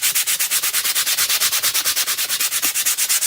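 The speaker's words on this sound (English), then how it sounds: "when you're sanding pieces of wood that maybe have little pieces sticking out" Hand sanding a wooden craft piece, a fast, regular back-and-forth rasp of about eight strokes per second, close and loud, with no talk.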